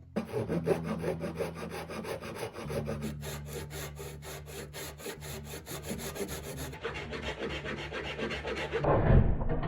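A hunk of ebony is being filed into a guitar bridge, giving steady, rhythmic rasping strokes that sound close and clear with no voices over them.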